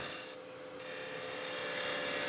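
A skew chisel cuts into wood spinning on a lathe, giving a steady, close rasping hiss that swells slightly and continues without a break, with no talking.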